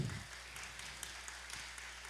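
Faint, distant clapping from a congregation at a Christian carnival church service, a thin patter over a low steady hum with a brief thump at the start.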